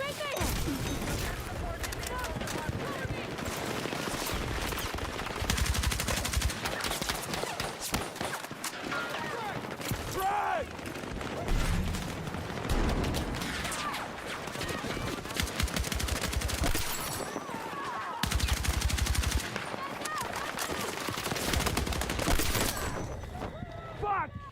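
Rapid bursts of AK-205 rifle fire in the video game Battlefield 6, loud and steady across the whole stretch with other battle noise mixed in. A voice talks over it.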